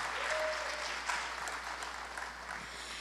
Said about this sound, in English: I would like you all to give a good round of applause for all this team effort that has been put in place.